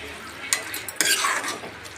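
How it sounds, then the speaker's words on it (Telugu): Carrot halwa cooking in milk with crushed cardamom being stirred, a spoon scraping and clinking against the pot in a few distinct strokes over a soft bubbling sizzle, close and fairly quiet, no voices. "ఇప్పుడు ఆ రెండు ఏలక్కాయలు దంచి పెట్టుకున్నాం కదా ఇందులో వేసేద్దాం ఫ్లేవర్ బాగుంటుంది స్మెల్ కూడా ఒకసారి బాగా కలిపేసుకుందాం"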